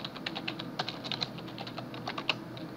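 Fingers type a bank name on a computer keyboard, a quick irregular run of light key clicks, close but quiet, with no talking.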